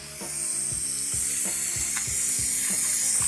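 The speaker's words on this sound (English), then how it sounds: "put the Schrader valve back in" Rapid, regular ratcheting clicks from a hand tool reinstalling a Schrader valve core into a tire valve, loud and close over a constant hiss, with no voices.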